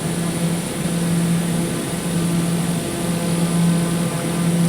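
TBM 930 turboprop engine in flight in Microsoft Flight Simulator 2020, a continuous loud droning hum with steady tonal whine and broadband rush, unchanging throughout, no voices.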